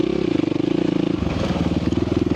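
A dirt bike of the DR 200 type, ridden on a road loop, drones steadily with a pulsing engine note that shifts pitch partway through as the rider changes speed, loud and close with wind noise.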